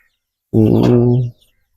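A single drawn-out chicken call from a flock of hens and chicks, close and fairly loud, lasting about a second before quiet returns.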